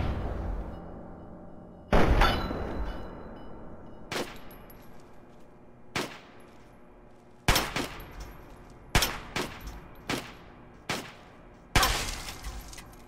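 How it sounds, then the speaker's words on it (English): Gunfire in Fallout 3, fired at close range near a cabinet: sharp, loud shots arrive in irregular single bursts and quick pairs, each with a crackling tail, spread across a quiet indoor background. "Shooting right into it."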